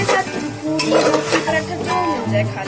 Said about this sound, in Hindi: तो इसलिए मैं सबको साथ में ही फ्राई कर रही हूँ।